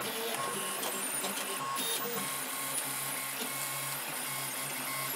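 A 3D printer printing ABS plastic with its cooling fan on, heat bed at 110 and nozzle at 235, steady whirring stepper-motor whine and fan hiss with shifting tonal buzzes, close and continuous.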